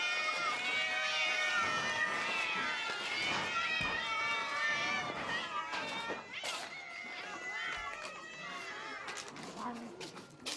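Several cats meow together while feeding in the morning, overlapping high cries and yowls close by, with some scuffling movement under a steady background.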